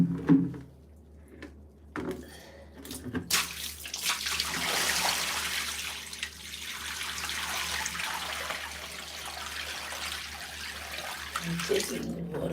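Water gushes from a tap in a steady broad rush while shoe soles are washed, preceded by a few knocks and handling sounds, with a brief voice near the end.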